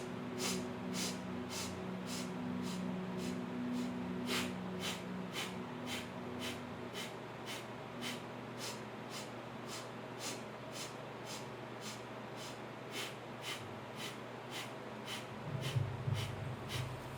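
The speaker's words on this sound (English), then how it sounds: "We're going to inhale in 8 sniffs, exhale in 8 short sniffs" Rapid, steady rhythmic nasal sniffs, about twenty evenly spaced short inhales and exhales of energizing pranayama breathing in a hatha yoga session, close and clear over a low hum, with a brief louder rustle near the end.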